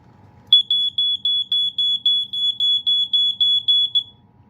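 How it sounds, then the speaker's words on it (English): A BRK HD6135F heat alarm sounds a steady series of about a dozen shrill, high-pitched beeps in an even rhythm, loud and close. "So I'd say this is a heat alarm"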